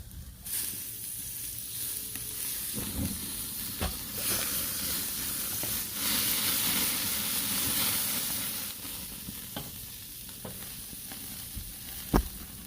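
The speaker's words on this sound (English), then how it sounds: "Gently simmering the lobster shells here for extra flavor." Lobster shells simmer gently in a pot for seafood cioppino, a steady soft sizzle and steamy hiss running throughout, with a few brief clinks or stirring bumps near and no talking.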